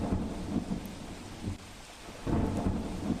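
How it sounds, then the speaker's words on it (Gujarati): Heavy monsoon rain pours steadily in Valsad, Gujarat, a dense continuous roar with deep rumbling thunder rolling underneath, loud and close with no voices. "વલસાડ જિલ્લામાં ધોધમાર વરસાદ વરસી રહ્યો છે"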